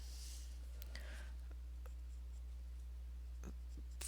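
Coloured pencil drawing an outline of bee wings on paper, soft scratchy strokes coming in short bursts, faint and close against a low steady hum.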